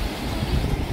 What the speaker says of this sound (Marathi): लाटा बघा काय डेंजर आहे ना